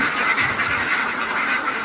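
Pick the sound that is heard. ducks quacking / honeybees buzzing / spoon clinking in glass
ducks quacking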